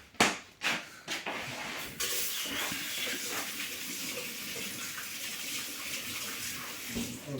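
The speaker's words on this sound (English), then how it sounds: "let me wash the pumpkin." Water runs steadily from a kitchen tap over a pumpkin being washed, a continuous hiss and splash after a few sharp knocks at the start, close and fairly loud with no talk.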